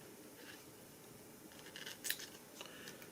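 Scissors snip through a feather section while tying a weighted Hare's Ear nymph fly, giving a couple of small, close, crisp cuts in a quiet room.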